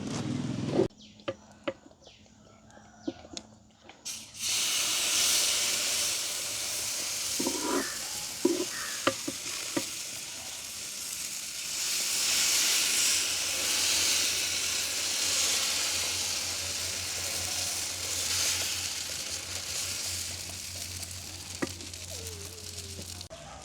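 Dosa batter cooks on an oiled pan, where a few light clatters give way to a broad, steady sizzling hiss that holds close and even to the end.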